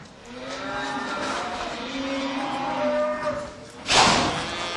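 Longhorn cattle low repeatedly in a forcing pen at a working yard, a series of loud, drawn-out moos overlapping one another, followed by a brief clatter near the end.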